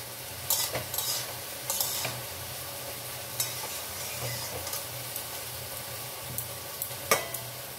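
Bottle gourd sabzi cooking in a pan is stirred with a utensil, giving scattered scraping knocks over a soft continuous sizzle, faint and close, with no talking.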